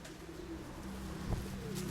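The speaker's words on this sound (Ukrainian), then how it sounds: "Ось цей сірий голубок 80-й." A grey pigeon coos softly at close range, low murmuring tones with a slightly stronger pulse near the middle, over a steady background.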